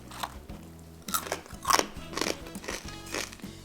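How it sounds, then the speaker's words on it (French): Someone bites into crunchy air-fried chicken drumsticks with no added oil, giving close, sharp crackling crunches in several bursts, each followed by quieter chewing. "Est-ce que je peux continuer à manger le poulet?"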